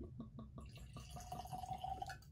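Sainsbury's Highland single malt whisky glugs from its bottle in a quick series of faint, regular liquid pulses, close and quiet.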